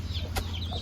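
A chicken gives a single brief cluck close by over a steady low background hum.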